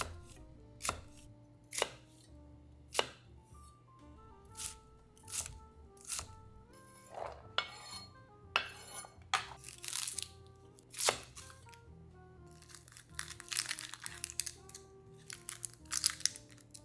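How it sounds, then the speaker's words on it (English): Onion chopped with a knife on a board for a chicken dinner, a steady run of sharp, close chops in uneven rhythm, spaced at first and then denser and busier toward the end, with no talking. "Do a little ASMR choppy chop time."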